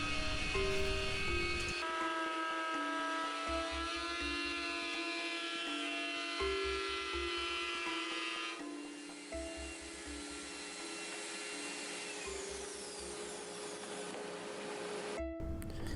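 A router cuts a walnut desk panel with a close, continuous high whine, its pitch and load shifting as the bit moves through the wood, with no talk over it.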